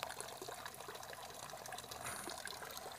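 Water trickles steadily through a small garden fountain carved from a discarded log, a faint, continuous babbling splash heard alone outdoors.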